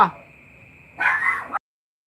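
A pet dog named Choco barks indoors, one short yip followed by a louder, longer bark, then silence.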